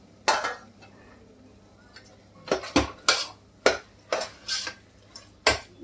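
A spoon clatters against a pan again and again while fenugreek leaves are mixed in, with sharp irregular metallic knocks close by and no talking.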